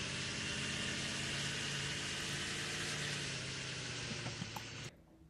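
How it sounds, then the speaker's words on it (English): The default engine sound in the game SimplePlanes: a steady, droning hum runs for about five seconds with a constant mechanical tone, then cuts off abruptly. "you just hear the sound of the default simpleplanes engine"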